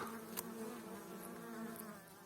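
A soft, steady buzzing of wild honeybees at their nest entrance in a tree on a mountain, with a few individual insects droning past.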